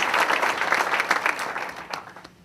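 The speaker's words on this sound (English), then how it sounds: "Will you give a round of applause for this incredible, Jay, thank you" A crowd gives a brief round of applause at an award ceremony, with dense clapping at first that tapers off and fades near the end.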